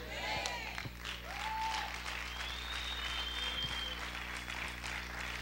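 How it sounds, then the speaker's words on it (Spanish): Steady applause from a church congregation during a sermon, sustained clapping with some cheering and a few voices mixed in throughout. "Dale ese fuerte aplauso al Señor."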